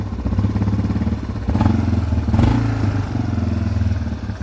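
A rebuilt Yamaha Wolverine ATV engine on a test run, a loud nearby idle with a steady thumping pulse and a few slight rises in revs, heard alone without talk.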